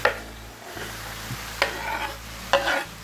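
Bell pepper sizzles in a frying pan as a utensil stirs it, a steady close frying hiss broken by three scraping stir strokes roughly a second apart.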